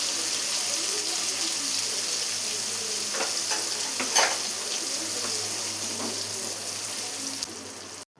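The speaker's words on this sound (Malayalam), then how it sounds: "ഇട്ട് വഴുതനങ്ങ ഇട്ടിട്ടൊന്ന് നന്നായി ഫ്രൈ ചെയ്തെടുക്കാം." Eggplant pieces fry in hot oil for a Kerala-style curry, a loud, continuous close-up sizzle with light stirring scrapes throughout that cuts off abruptly at the end.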